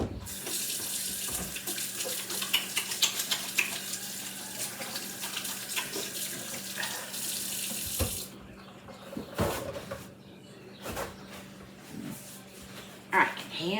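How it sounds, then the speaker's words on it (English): A kitchen tap runs steadily as hands are washed beneath it, a close, continuous hiss of water with splashing that cuts off partway and then returns in brief bursts, while a person talks over it. "Let me wash my hand really quickly."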